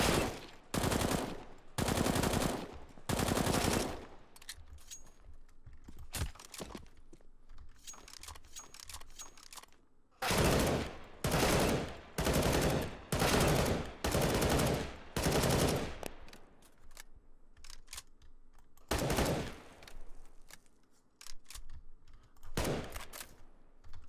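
Bursts of rifle gunfire from the FAMAS in CS:GO after the September 2016 update, fired in repeated loud automatic strings separated by short quiet gaps, with no talking.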